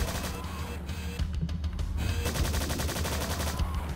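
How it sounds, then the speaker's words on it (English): Rapid gunfire from an enemy in the video game Strife: a loud, dense fusillade of shots, briefly broken near the one-and-a-half-second mark and then resuming as a fast, even stutter. No one speaks. "this guy is hiding around corners, taking really lame pot shots at me"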